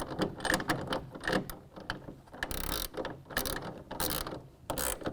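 Repeated ratcheting clicks from a 1/2 inch ratchet tightening a clamp on an Access roll-up tonneau cover on a pickup bed, coming in quick rhythmic bursts with short pauses, close and fairly loud.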